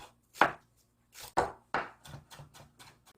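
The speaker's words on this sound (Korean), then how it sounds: "대파를 이렇게 놓고 막 조습니다. 조순한 상태에서 이렇게 썰어 주시면 금방 다져요" Knife finely mincing green onion (daepa) on a cutting board: three sharp, isolated chops followed by a quicker run of lighter taps, close and clear with no talk.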